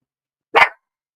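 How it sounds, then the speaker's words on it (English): A single sharp bark from a Yorkie, loud and close, alone against silence. "Hey, that sounds like a dog."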